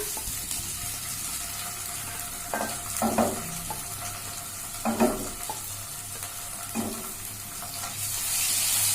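Poppy seed paste is stirred into hot oil in a pan for paneer masala, a steady soft sizzle with a few short bursts of scraping, no one speaking.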